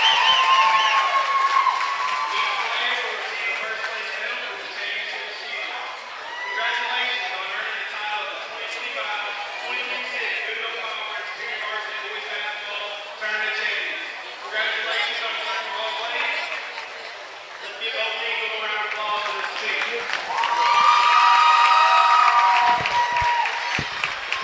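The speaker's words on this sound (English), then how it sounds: "Much-deserved round of applause for both teams." A gym crowd at a basketball conference tournament championship applauds and cheers both teams, a sustained roar of clapping and shouting that swells louder near the end, with an announcer's voice carrying over it.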